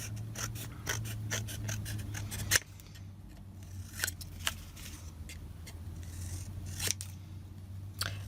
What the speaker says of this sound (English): Now I'm going to trim around my edge.